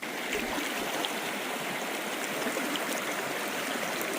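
A river flows right beside a campsite, a steady, fairly quiet rush of water with soft trickling and gurgling that runs unbroken throughout, with no voices over it.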